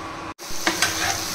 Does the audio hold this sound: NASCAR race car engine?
no